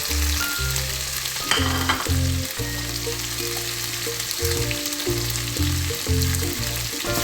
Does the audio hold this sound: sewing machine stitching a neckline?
no